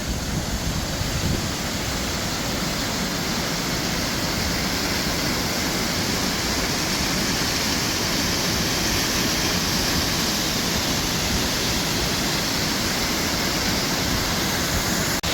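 A waterfall on the border with Austria roars in a steady, dense rush of falling water, loud and close, continuous throughout with no voices.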